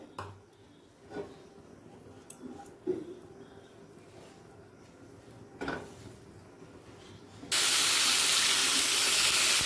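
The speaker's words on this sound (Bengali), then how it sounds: "লবণ দিয়ে আলু আর পটলটা লো ফ্লেমে ভেজে নেব" Potato and pointed gourd frying in white oil in a kadai over low flame, a loud broad sizzle bursting in late and holding steady after quieter clinks and bumps from the kitchen.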